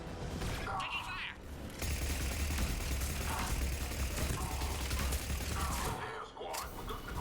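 Sustained rapid gunfire rattles through a battle in the video game Mass Effect 3, loud and dense for several seconds. Brief shouted voices cut in near the start and the end.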